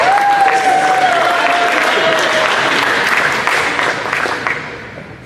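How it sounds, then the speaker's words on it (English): Audience applauding at a signing event, a sustained wash of clapping that slowly fades toward the end, with a faint voice underneath. "Yeah, give him an applause"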